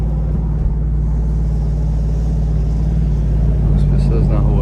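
A Chevrolet Camaro V8 rumbles steadily while driving through the streets of Jurerê, heard up close as a continuous deep low drone that stays level throughout.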